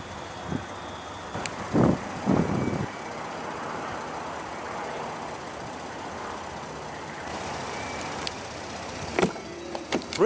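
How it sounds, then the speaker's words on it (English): Power-deploying running boards on a 2016 Ford Expedition give short, faint electric motor whirs, a couple early on and more near the end, against quiet vehicle background noise. "Really love these power deploying running boards"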